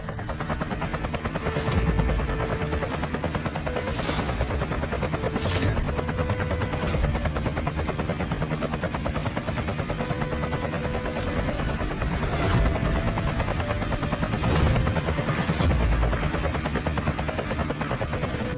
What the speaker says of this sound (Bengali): আরে, ওটা তো কোটি টাকার হেলিকপ্টার।